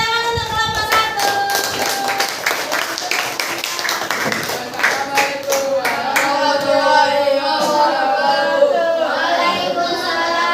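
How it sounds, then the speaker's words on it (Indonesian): Classroom audience of students clapping for a presenting group, a dense patter of hands under chatter and children's voices. "tepuk tangan untuk kelompok 1"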